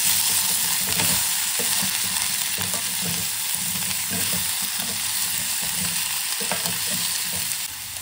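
Pumpkin poriyal fries in a pan with a constant close sizzle, broken by rhythmic scraping strokes of a spatula as the pieces are stirred together.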